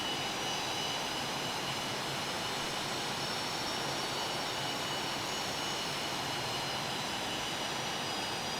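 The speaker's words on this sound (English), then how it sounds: "Slow and steady is the way of the day for taxi." A T-37 Tweet jet taxis slowly in Flight Simulator, its engines giving off a steady, even whine and broadband rush at moderate level, unbroken throughout, with no voices.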